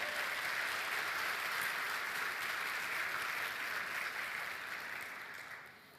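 A church congregation applauds during a sermon, a dense, steady wash of many hands clapping that holds strong for several seconds and then begins to fade toward the end.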